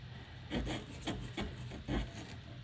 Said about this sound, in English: put him through the holes and scrub